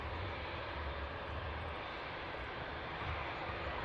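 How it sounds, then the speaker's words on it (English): A fixed-wing airliner at Manchester Airport drones steadily with a broad, continuous engine roar, heard from a distance, with no voices. "Great looking aircraft."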